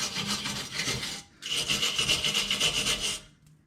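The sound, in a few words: scraping clean transmission mating surfaces, 2006 Trailblazer SS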